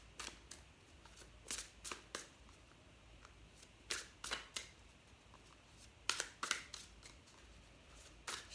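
A deck of tarot cards is reshuffled by hand, producing quiet, crisp riffling snaps in short irregular bursts against a faint background hiss.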